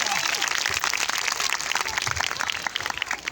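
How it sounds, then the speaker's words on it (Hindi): An audience at a Christmas gathering claps loudly and continuously, a dense patter of many hands with some voices mixed in. "जोर से ताली बजा सकते हैं आप"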